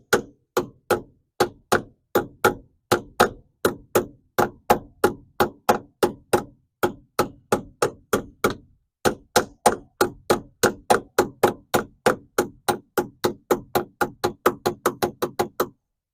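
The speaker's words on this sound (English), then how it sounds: "Let's just get a hammer." A hammer knocks car parts into place on a 1975 Dodge Dart, near a battery mount: dozens of sharp, loud metallic blows in a steady rhythm, with brief pauses, speeding up toward the end.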